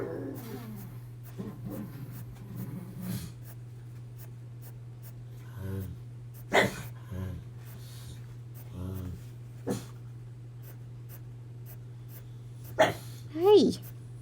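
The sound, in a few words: dog barking and whimpering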